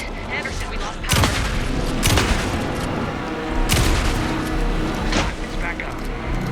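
Gunfire in the Alan Wake II video game, several loud broadband bursts and shots spaced a second or two apart over a continuous noisy action soundscape, with voices speaking.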